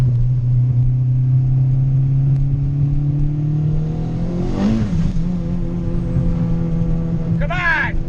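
A turbocharged Honda Integra GSR on a wet road, its engine droning and rising in revs, then dipping before climbing again, loud and close, with brief voices calling out over it.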